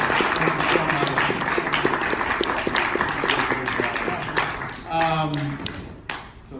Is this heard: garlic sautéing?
no